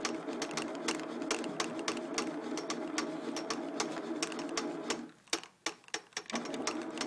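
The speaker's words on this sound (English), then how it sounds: "It's kind of cool listening to the patterns of bouncing." A ball bouncing chaotically inside a 6-foot tube gives a fast, fairly even stream of hard clicking ticks, then breaks into a few sparse, irregular knocks before the rapid ticking resumes.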